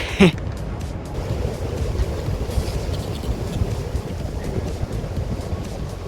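Wind buffets the microphone in a steady rumbling roar that continues without a break, with a single sharp thump near the start.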